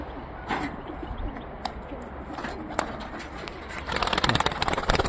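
Pigeons in a garden coo in short soft phrases, followed near the end by a burst of close, loud wing flapping.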